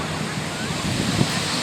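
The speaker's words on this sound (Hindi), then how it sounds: "ये दिखाओ, ये समुद्र।" Sea waves at Calangute Beach in Goa give a steady roar of surf mixed with wind buffeting the microphone, with faint voices in the background.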